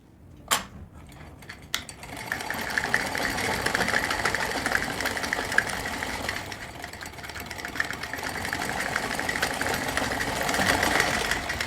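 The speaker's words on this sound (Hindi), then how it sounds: "इतनी स्पीड पर चलाने के बाद भी अब मशीन धागा नहीं काट रही है, ना धागा चीर रही है" A sewing machine threaded and running at high speed, after a couple of sharp clicks at the start, settling into a steady, loud mechanical whir that holds for the rest of the clip.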